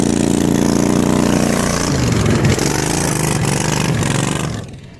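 A small pit bike engine idles loudly and close by, a steady mid-pitched putter with some clatter, briefly rising and roughening midway before fading out at the end.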